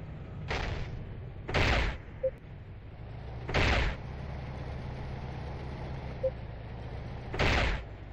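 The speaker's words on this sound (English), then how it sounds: "Missiles away." Missiles launching in Battlezone Combat Commander, a tank battle game: four separate loud whooshing bursts spaced a couple of seconds apart over a low engine rumble.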